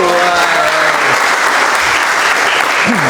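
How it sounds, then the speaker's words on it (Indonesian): Loud, continuous clapping fills a classroom during a teacher training lesson, with a faint voice and some tonal sounds showing through the dense applause. "Tepuk tangan dulu"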